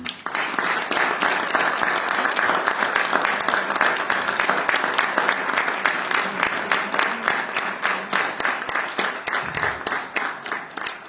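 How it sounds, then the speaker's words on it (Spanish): Steady, rapid clapping from a concert audience after a guarania performance in Estremoz, Portugal, continuing evenly for several seconds before gradually thinning out. "Muchísimas gracias por esos aplausos"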